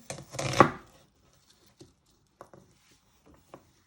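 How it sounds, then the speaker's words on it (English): A knife chops red onions on a cutting board, one dense cluster of cuts at the start, then sparse, soft taps spread across the rest of the clip. "So what you do is you're just chopping it into 3, turn it around,"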